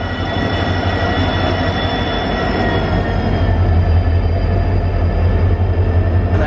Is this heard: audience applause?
no